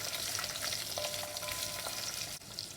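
Six or seven garlic cloves brown in hot oil for a South Indian fish curry, making a brief, steady close crackle and sizzle with light stirring and a short dip near the end.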